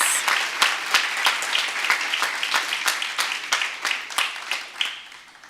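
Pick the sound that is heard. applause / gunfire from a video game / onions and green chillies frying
applause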